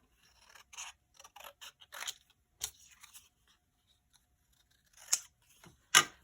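Paper being cut with scissors for a folded box, a series of quiet, close snips and crisp crunches at irregular intervals, with no talk over it.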